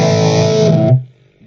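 Heavily distorted electric guitar through a Blackstar ID Core 20 amplifier, a loud sustained chord ringing for about a second before being cut off, leaving near silence.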